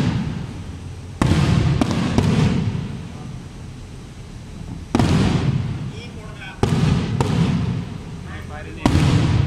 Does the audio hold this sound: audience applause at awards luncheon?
no